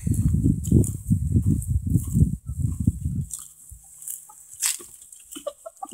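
Backyard chickens, a rooster among them, cluck in a quick run of low, throaty bursts nearby, then go quieter with a few scattered softer calls and chirps.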